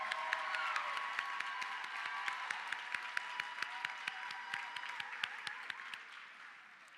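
A high school honors convocation audience applauds student board officers with a sustained, even wash of clapping and a few sharper individual claps on top, fading out toward the end.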